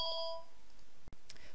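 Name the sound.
phone ringing with an incoming call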